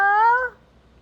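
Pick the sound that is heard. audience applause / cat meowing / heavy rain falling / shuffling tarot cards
cat meowing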